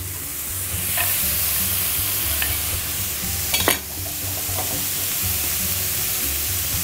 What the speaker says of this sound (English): So you want to just keep tossing it, stir frying it basically.